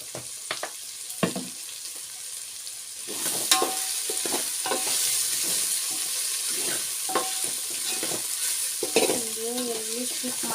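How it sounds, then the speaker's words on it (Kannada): Mustard-seed tempering fries in hot oil for pulao, sizzling steadily at close range while a spoon stirs and scrapes the pan in repeated bursts, with no talk. "ಇನ್ನೂ ಫ್ರೈ ಆಗಬೇಕು ಅದು"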